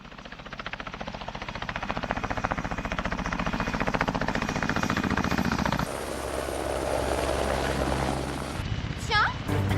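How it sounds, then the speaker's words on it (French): A helicopter roars steadily overhead with loud, pulsing rotor chop, the tone shifting midway as it passes, continuous for the whole stretch. "Tiens, un hélicoptère."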